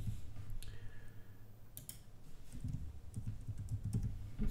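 User details typed on a computer keyboard while registering on a forum, a faint, irregular patter of key clicks in short runs, close and alone.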